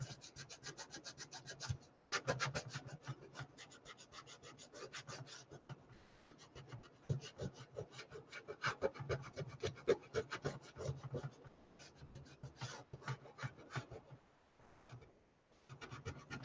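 Rhythmic rubbing on a paper roll canvas craft, quick repeated dry scrubbing strokes close up in bursts with brief pauses, fairly faint overall.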